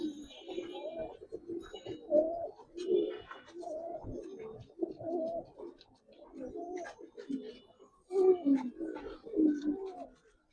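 Pigeons coo repeatedly at close range, a pair of Giribaz and coloring breed birds kept in a loft, their low throaty calls rising and falling in bursts throughout with brief pauses.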